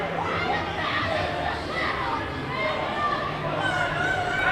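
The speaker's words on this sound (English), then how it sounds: "And the crowd is loving it." A college hockey crowd cheers during a penalty at an ACHA men's D1 game between Oklahoma and Colorado: a steady, dense roar of many voices filling the arena throughout, with no single voice standing out.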